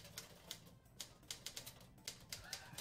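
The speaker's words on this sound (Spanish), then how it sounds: "Con la máquina de escribir." Typewriter keys clacking in an irregular, fairly even rhythm, faint and somewhat distant against a low background hum, with no talking.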